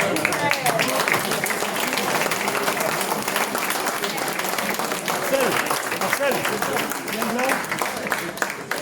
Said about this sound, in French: lorsqu'on applaudit là, on applaudit tous les généreux donateurs